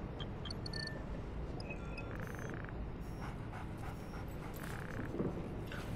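A dog pants rapidly and steadily in Call of Duty: Ghosts, close by, under a continuous bed of ambient game noise and occasional tonal effects.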